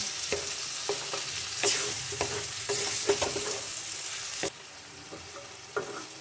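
Green peas are sautéed in a spiced potato curry in a pan, with a soft sizzle under repeated spatula scrapes and clacks against the pan, the frying fading quieter near the end; no voices.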